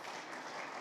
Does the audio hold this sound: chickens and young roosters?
no